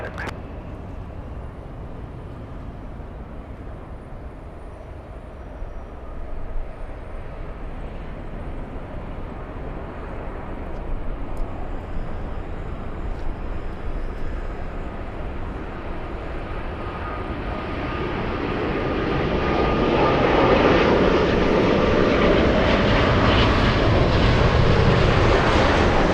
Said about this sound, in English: Lufthansa 452, flying in from Munich. Clear for takeoff, runway 24 left